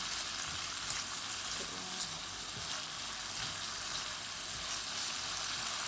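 Tomatoes cook in a pan with a steady, close sizzle and hiss of frying that runs unbroken throughout, with faint scraping stirs now and then and no talking.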